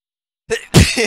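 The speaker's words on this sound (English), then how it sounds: "I sneezed." One close, sharp sneeze: a brief intake, then a loud burst that cuts off quickly, heard from a person during an Overwatch 2 replay review.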